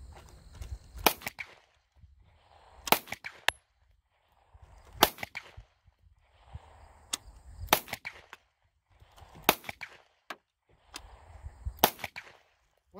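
Taurus GX4XL 9mm pistol fired on a range, held with a deliberately loose, limp-wristed grip; sharp, loud shots come in spaced pairs, each followed by a brief echoing tail and quiet gaps.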